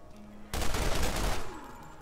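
Pistol gunfire in the video game Borderlands, a sudden loud burst of rapid overlapping shots lasting about a second before trailing off, with no talking.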